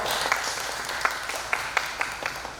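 Applause from the audience at a 2017 pin-up contest, a steady, moderately loud wash of clapping with a few sharper claps standing out, heard alone without talk.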